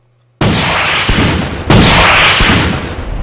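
Bazooka fire in the Market Garden WWII strategy game Battle Academy: a sudden loud blast after a moment of silence, followed by a second heavy boom with a long rumbling, roaring tail.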